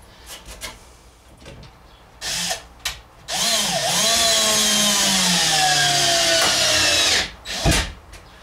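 A power drill countersinks a screw hole in wood on a DIY travel trailer kitchenette build, with a few short clicks and taps, then a loud close whir of about four seconds whose pitch dips and steadies, and a brief final burst.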